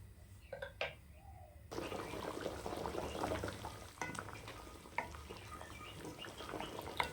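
Potato gravy simmers in a pot, a soft continuous bubbling and popping at low volume with scattered small blips, after a brief quieter moment at the start.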